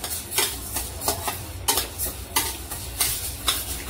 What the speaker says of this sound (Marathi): ही आपण अर्धा किलो ज्वारी कढईत छान मंद गॅसवर अशी भाजून घ्यायची।